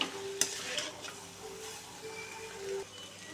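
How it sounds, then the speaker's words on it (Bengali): Figs are being sautéed in a pan, with a soft continuous sizzle and occasional scraping stirs, including one sharper clink of the spoon early on, fairly quiet and without talk. "এবার আমি ভালো করে ডুমুরটাকে কষিয়ে নেব"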